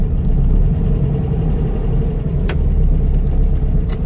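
A 1970 Baja Bug with a 2276cc engine drives along, its engine giving a steady, loud, low rumbling drone throughout, with a couple of brief sharp ticks or clicks near the end.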